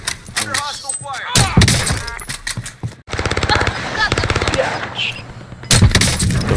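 Rapid bursts of automatic gunfire in a Call of Duty Warzone match, loud and close, with staccato volleys broken by short gaps, mixed with game voice lines and in-game chatter.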